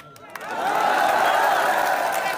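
A rally crowd breaks into sustained loud applause, a dense wash of clapping that swells after a brief pause and carries on steadily to the end.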